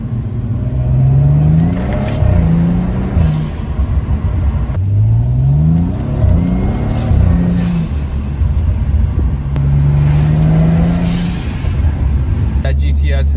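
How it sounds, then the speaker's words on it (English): A BMW F30 335i engine with a cold air intake and Turbosmart blow-off valve revs repeatedly, rising and falling in pitch with loud throaty bursts, and a sharp turbo blow-off hiss near the end. "That Denon cold air intake and that Turbo Smart blow-off valve are really working now."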